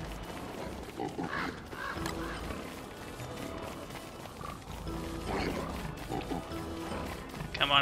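Pigs in the Don't Starve game, with scattered grunts and snorts recurring irregularly over a steady ambient bed at moderate distance.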